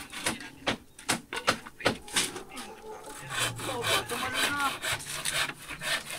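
A hand saw cuts through wood in a run of rasping strokes, each stroke a sharp scratchy burst at a steady back-and-forth rhythm, close and fairly loud, with some faint background rumble.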